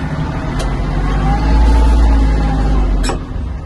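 A Kubota GL-260 Japanese mini tractor runs in gear, its engine a loud, steady low rumble close by, with two brief sharp clicks from the machine.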